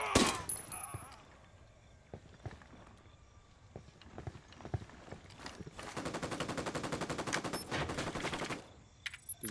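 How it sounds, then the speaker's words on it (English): Gunfire from a checkpoint in Ghost Recon: Wildlands: scattered sharp single shots, then a long sustained rapid automatic burst, loud and close, ending with a few isolated cracks. "Taking fire from the checkpoint."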